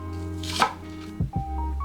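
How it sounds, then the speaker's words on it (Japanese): A knife slices through an onion across the grain on a cutting board, cutting wide strips; a few distinct chops land close up, with a low steady hum behind them. "まず玉ねぎの方なんですけども、いつもでしたらこの繊維に沿ってカットしていくんですけども、こちらの繊維を断ち切るようにちょっと幅広でカットしていきます"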